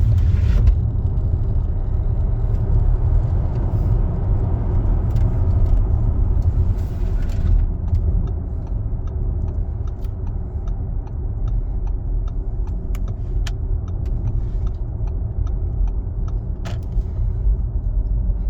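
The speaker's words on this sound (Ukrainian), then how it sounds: "Зараз продемонструю. 503 конячки. Розгін до сотні за 4 секунди." An Audi e-tron S electric car accelerates hard: a continuous low road and motor rumble with tire noise fills the cabin, steady throughout, with a few faint ticks and no talking.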